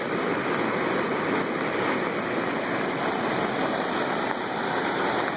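The flooded Fox River surges in a steady, loud, unbroken rush of churning water, close and continuous throughout with no voices.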